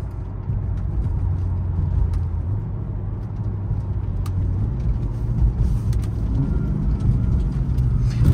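BMW F80 M3 engine holding revs while driving, a steady, loud interior drone with engine tones shifting gradually and no talk over it.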